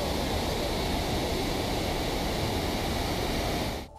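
A waterfall in the tourist town of Yaremche in the Ivano-Frankivsk region rushes with a steady, dense roar of falling water, loud and unbroken before cutting off abruptly at the end.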